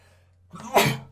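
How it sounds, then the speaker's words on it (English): One sharp, close sneeze bursts out after a brief indrawn breath, loud and sudden against a low background hum. "Oh, sneeze."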